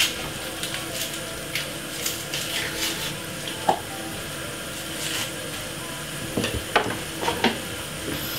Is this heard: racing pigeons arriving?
no